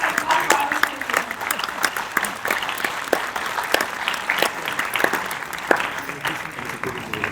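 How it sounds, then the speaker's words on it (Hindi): Loud applause rises from an audience at a stage performance, continuous clapping with distinct sharp claps standing out over the crowd, and faint voices mixed in. "तो एक बार जोरदार तालियों से"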